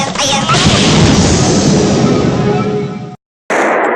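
A Diwali firecracker goes off with a loud, close boom that rings out broadly and fades over about three seconds before an abrupt cut and a brief return of noise.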